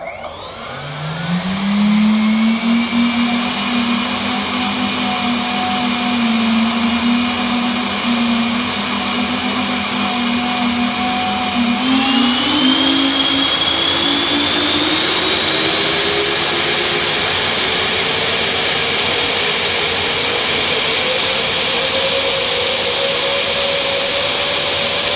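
A Valkyrie model jet engine with wings fitted runs at full throttle, a loud, close, steady turbine roar with a high whine that rises gradually in pitch as it spools up over about twenty-five seconds, with no talk.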